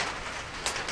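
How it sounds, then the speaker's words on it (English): Heavy rain falling during work on a Silverado pickup truck bed, a steady dense hiss of drops with a brief louder splash, no voices. "It was coming a hard rain there for a minute."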